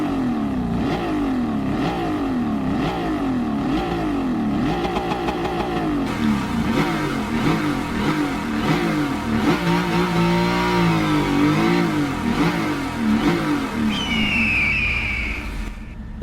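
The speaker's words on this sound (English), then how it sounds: "That's nothing but V8 motor" A V8 car engine in Gran Turismo 7 revs repeatedly in rising and falling sweeps, then holds a loud sustained drone with a high whine near the end.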